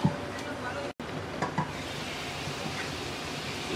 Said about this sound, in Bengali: এবার মিডিয়াম লো আছে পটলগুলোকে 5 মিনিট কষিয়ে নেব।